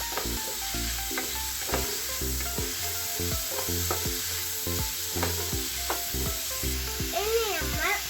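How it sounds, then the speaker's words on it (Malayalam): Green chillies and tomatoes frying in a pan as they are stirred, a loud continuous sizzle with repeated scraping strokes of the spoon at an uneven rhythm, close up and without talk. "കുറച്ച് നമ്മൾ പച്ചമുളകും തക്കാളിയും ഇനി ഇത് ഇളക്കി കൊടുക്കും"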